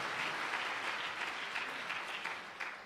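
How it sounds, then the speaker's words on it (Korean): A church congregation at an elders' couples retreat claps steadily, a dense continuous applause filling the room for about three seconds and tapering slightly at the end. "이렇게 박수도 쳐주시고 얼마나 감사해요"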